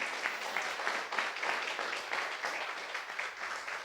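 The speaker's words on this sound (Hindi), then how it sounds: "जोर से ताली बजा के एक बार प्रभु को धन्यवाद दे सकता है" A church congregation claps loudly together to thank the Lord during a Hindi sermon. Brisk, steady applause fills the room for a few seconds, swelling in gentle pulses.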